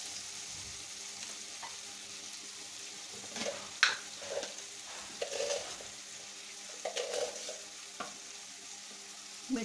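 Mutton pieces fried in a pan for a mutton curry, giving a soft continuous sizzle broken by scattered scraping stirs, fairly faint and with no voices.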